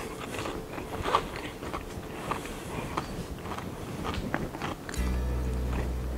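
Crunchy bites into regular crinkle-cut potato chips dipped in a creamy garlic and Italian seasoning dip, a few close crisp crunches followed by steady chewing, up close with no talking.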